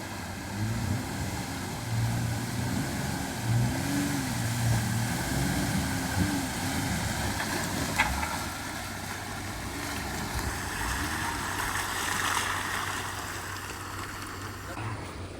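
A two-wheel drive off-road vehicle with an open differential churns through mud in the Croom and Citrus wildlife management area, its engine a steady low drone with wheel slosh, sustained and fairly loud throughout.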